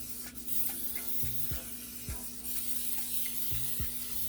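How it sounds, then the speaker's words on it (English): Cooking spray hisses onto a seasoned whole chicken in short, faint bursts, repeated several times, against a low steady kitchen hum. "I'm just gonna go over and spray again."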